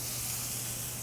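Mahi fish frying in a very hot pan, giving a steady, even sizzle and hiss close by with a low hum beneath, heard alone without talk.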